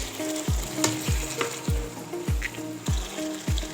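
Masala with tamarind and dried plums (aloo bukhara) cooks in a pan for kofta biryani, a steady sizzle punctuated by about six evenly spaced spatula scrapes and thumps, close and clear with nobody talking.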